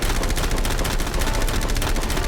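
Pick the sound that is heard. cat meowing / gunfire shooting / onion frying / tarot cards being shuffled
gunfire shooting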